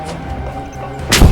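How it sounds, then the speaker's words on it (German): A loud, heavy boom of bombs exploding in Just Cause 2 bursts out near the end after a low rumbling background. "Da fliegen die Bomben hier."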